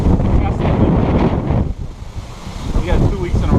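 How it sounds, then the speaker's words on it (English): Strong wind buffets the microphone in heavy, roaring gusts that briefly ease before building again. "We got 2 weeks in a row of terrible windy weather"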